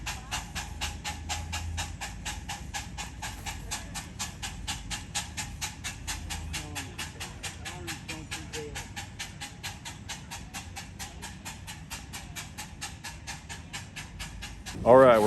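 A 7.5 inch gauge steam locomotive, number 844, chuffs along with a rapid, steady beat and a hissing background, fairly close and continuous, a brief louder burst at the end.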